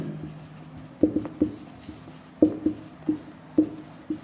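A board is written on, with a series of short, distinct strokes and taps in uneven bursts of two or three, close and clear, and no voice.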